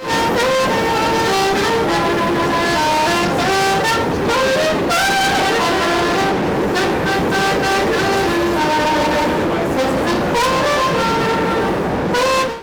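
Metro train carriage in motion, loud and continuous rail rumble with rhythmic clatter and shifting tonal squeals and whines from wheels and motors throughout, no talking.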